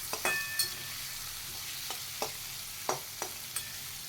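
Chopped onion and tomato frying together in a pan give a faint, even sizzle punctuated by sharp spatula clicks and taps against the pan at irregular intervals.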